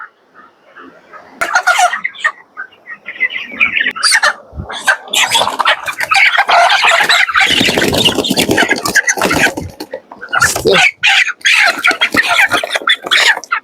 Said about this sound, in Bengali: ওই সাইড থেকে আমরা 5টা মুরগি ধরবো